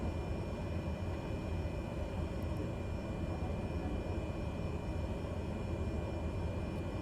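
Cessna 208B turboprop lining up on a runway in Alaska within Microsoft Flight Simulator: a faint, steady engine hum with a constant broadband hiss and thin high whine.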